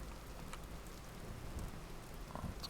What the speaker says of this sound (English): And we'll just stack the firewood in the rain, right?